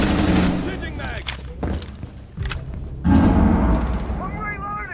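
Gunfire in the Rainbow Six Siege tactical shooter, with several sharp bursts of shots separated by pauses and a louder burst near the end, mixed with in-game noise while a player talks over it.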